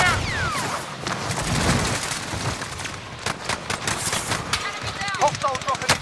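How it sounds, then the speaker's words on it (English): Rapid machine-gun bursts and single gunshots crackle loudly in Call of Duty: Modern Warfare, with scattered booms and game voices calling out over the firefight. "I'm under fire!"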